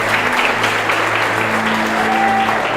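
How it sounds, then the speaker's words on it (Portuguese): A church congregation claps together in steady, continuous applause that fills the space loudly from start to finish, with a faint sustained tone underneath. "Dê um forte aplauso a Ele"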